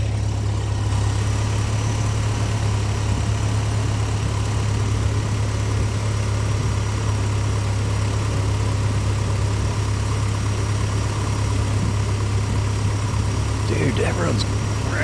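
A Splash Sport Danger Ranger engine idles steadily on a cool 55-degree morning after its first crank, a constant low rumble running throughout with a brief burst of talk near the end.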